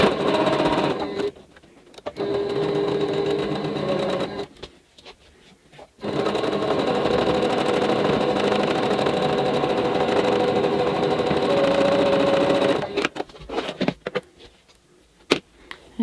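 A sewing machine stitches the colored tulip piece to the stem of a quilt block, whirring in steady close runs: a short burst, a longer stretch, then a long continuous seam before it falls quiet.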